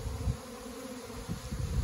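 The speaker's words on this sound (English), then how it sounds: "I've noticed this little clump of bees out on the end of this branch" A small clump of honey bees from a fall swarm hangs on the end of a branch outdoors, giving a steady, continuous buzzing drone with slight swells in loudness.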